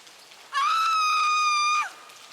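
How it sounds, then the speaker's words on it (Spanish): An inhuman scream sound effect in a horror story, set in a morgue's refrigeration room. It is a single shrill, sustained tonal cry lasting just over a second, ending in a quick downward slide, alone against quiet. "escuchamos un grito."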